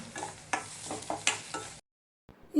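Onions frying and being stirred in a pan while cooking potato palya, with steady close sizzling and a few sharp scraping stirs, then a brief silence before the sizzle resumes.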